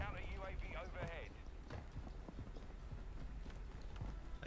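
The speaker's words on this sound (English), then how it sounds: "I keep hearing footsteps and I know it's not you." Footsteps in the Warzone 2.0 video game, a run of quick light steps under game sounds, with a person talking near the start.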